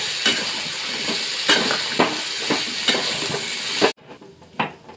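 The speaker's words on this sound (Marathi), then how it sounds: "बघा हे दहा मिनिटं असं परतून घेतले बटाट" Potatoes sautéing in a pan for a fasting puri bhaji, a continuous close sizzle broken by regular scraping stirs about every half second, cutting off abruptly near the end before a couple of quieter strokes.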